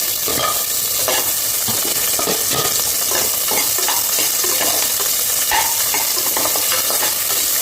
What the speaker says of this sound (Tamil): அதோட வெங்காயம் சேர்த்துக்கலாம் பூண்டு லேசாக வதங்கினா போதும்